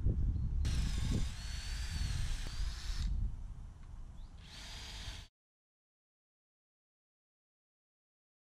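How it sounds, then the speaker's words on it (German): Cordless drill pre-drilling pilot holes in wood while building a firewood storage shelter outdoors: two short bursts of whirring drilling, a longer one then a shorter one, close and fairly loud, followed by silence. "Ich bohre mit dem Akkuschrauber vor und dann setze ich die Schraube ein."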